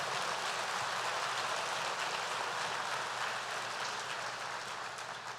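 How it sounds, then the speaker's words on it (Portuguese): A church congregation gives a steady round of applause, a soft, dense wash of many hands clapping at once that holds evenly and eases slightly toward the end. "Pode dar uma salva de palmas ao Senhor"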